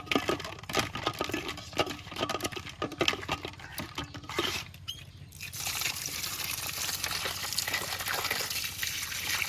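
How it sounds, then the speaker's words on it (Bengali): Boal fish being scrubbed by hand with salt and water, giving close wet dripping, splashing and trickling sounds with brief pauses, then a steady pouring of water toward the end. "বোয়াল মাছটা তাই ভালো করে লবণ দিয়ে ধুয়ে নেব"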